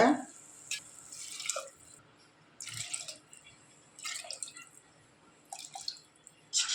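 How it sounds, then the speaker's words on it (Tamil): Water is poured into a pot of sautéed vegetables and samba wheat rava for biryani, coming in short faint splashing bursts separated by pauses, with quiet talk in between. "அதுக்கு மூன்றரை கப்பு தண்ணி சேர்த்துக்கோங்க"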